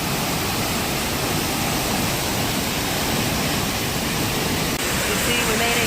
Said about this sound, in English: Usually this waterfall is like clear and turquoise because of all the rain.